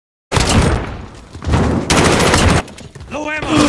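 Video game gunfire in a survival mode, loud bursts of rapid automatic fire in long runs with short gaps, ending in a ringing electronic tone, while a voice speaks over parts of it.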